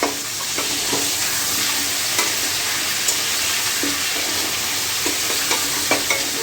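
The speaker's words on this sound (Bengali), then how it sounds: "এখন এটাকে হাই ফ্লেমে ভালো করে ভাজতে হবে।" Vegetables and chicken fry over a high flame with beans, potato, carrot, capsicum and green chilli, a steady loud sizzle broken by frequent sharp clacks of stirring, with no talking.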